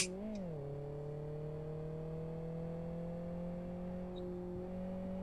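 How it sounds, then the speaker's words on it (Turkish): An old Fiat 500 engine in the racing game Live For Speed gives a quick rev, then settles into a steady, even hum at constant pitch. "Motor sesi diğer araçlardan sonra bayağı bir düşük geldi bana"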